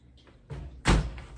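Oven door closing on proofing bread dough in a home kitchen, a soft rattle followed by a single solid thud of the door shutting, close and alone.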